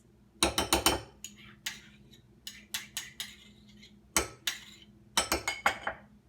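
A utensil clinks and scrapes against a bowl while sour cream and mayonnaise are stirred together for a chipotle aioli, in quick bursts of several strokes separated by short pauses.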